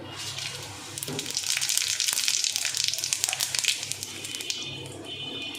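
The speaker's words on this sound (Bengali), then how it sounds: "তেলটা আমার গরম হয়েই এসছে ফোড়নটা দিয়ে দেবো" Whole dry red chillies, white cumin, nigella and radhuni tempering in hot oil, a steady bright crackling sizzle with small pops that swells and then settles, close and fairly loud with no talk.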